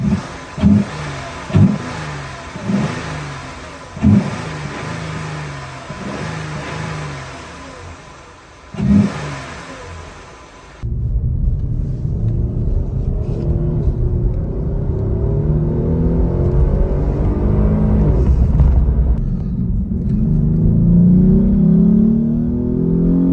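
A Jeep Grand Cherokee WK2 engine with an aFe cold air intake idles with a few sharp revs, then shifts into a steady, louder rumble as it drives off and accelerates, with no talking.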